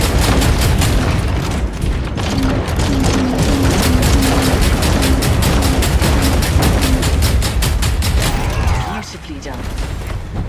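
Gunfire in the Hawken Reborn mech game, a long rapid stream of loud weapon shots with booming low-end impacts, dense and continuous, fading out near the end.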